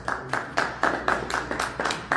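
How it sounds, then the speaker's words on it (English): Sparse hand clapping from a small live audience at an investment seminar in Vancouver, Canada, a few steady claps spaced evenly and fairly close, with no talk over them. "Please, can we give a round of applause for him, please?"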